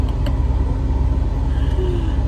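A car driving along a farm road, its engine giving a steady, loud low rumble throughout, with no talk over it.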